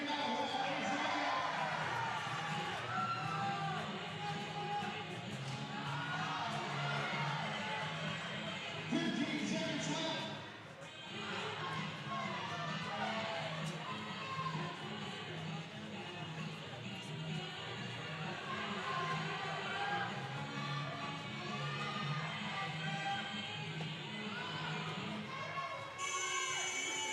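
Crowd noise fills a basketball gym at halftime of a 2019 NWAC Sweet 16 college game between Highline and Peninsula, with steady cheering and shouting and a PA announcer's voice over loud music throughout.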